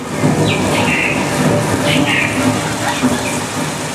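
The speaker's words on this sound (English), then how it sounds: "systems set up around the set that shoot the water up into the air so that it falls down to the earth naturally, as you can see right here" Artificial rain pours onto a Universal Studios Hollywood film set from water systems spraying it into the air, a steady dense hiss of falling water with faint higher chirps on top.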